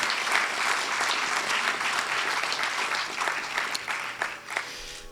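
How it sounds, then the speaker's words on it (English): An audience at a Bharatanatyam arangetram applauds warmly, a full, sustained round of clapping from a large hall crowd that gradually thins toward the end. "So let's give Anika a very good round of applause."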